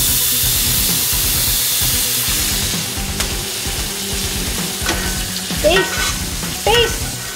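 Shrimp sizzle and fry in a hot pan while being basted, a steady close crackle with stirring clatter, and short voices break in near the end.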